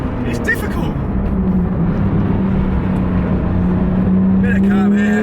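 Porsche 911 GT3 RS with a 3.8-litre flat-six engine on a race track, a loud steady drone whose pitch slowly rises under wind noise, heard from inside the car.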